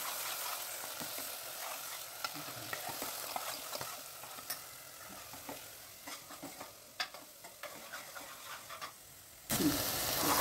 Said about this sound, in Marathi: छान आपण तेल सुटेपर्यंत परतवायचं आहे